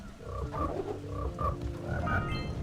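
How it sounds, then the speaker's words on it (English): A frog in the video game Jak and Daxter croaks in a quick run of throaty, bubbly calls, about six in under three seconds, close and clear over a low ambient rumble. "Alright, we got this frog here."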